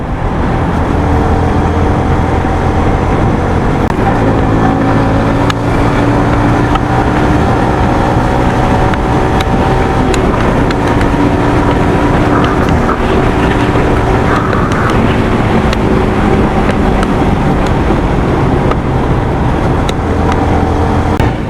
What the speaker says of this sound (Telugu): ఈ ఇంజన్స్ ఎక్కువ సౌండ్ అయితే చేయట్లేదు